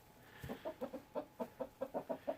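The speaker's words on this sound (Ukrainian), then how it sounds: "І тут у нас також є ще невеличка кількість півнів, які чекають на свій час." Roosters clucking in a quick series of short, regular calls, close and fairly quiet, with a brief thump near the start.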